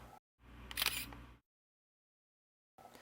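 A Canon XT digital SLR camera fires its shutter in a short, crisp mechanical burst lasting about a second, then falls silent before another brief sound begins.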